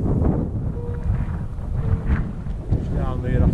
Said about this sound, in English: it is a bit windy up top here